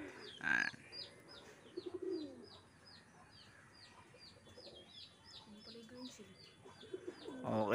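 Racing pigeons kept as pets coo softly in a loft, with repeated faint calls and chirps over a quiet background and a few louder thumps at the start and end.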